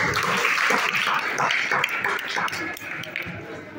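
An audience at a school festival held by a village memorial committee claps in a lively burst that thins out gradually over a few seconds.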